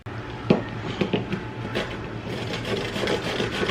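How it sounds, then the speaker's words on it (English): Zucchini and carrots are grated by hand for zucchini carrot oatmeal muffins, giving a close, rhythmic rasping and rubbing that comes in repeated strokes, with a low steady hum beneath. "I'm going to start by grating up a cup of zucchini and a cup of carrots"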